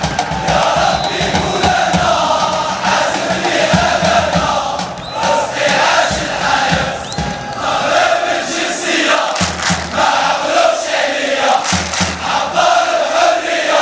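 A large crowd of Moroccan fans sings and chants together at a football match, loud and continuous, with surges of massed voices and cheering throughout.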